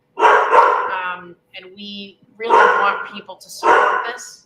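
A pet dog named Clemson gives a short bark or yip in a pause between stretches of someone talking. The bark is brief and fairly close, and the speech dominates.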